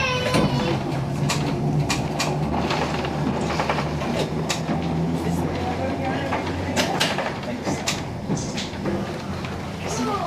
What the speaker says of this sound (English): There's a diesel train.